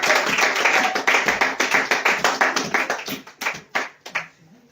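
Church congregation clapping in unison to acclaim the Lord, a loud rhythmic train of claps that gradually thins and fades out near the end.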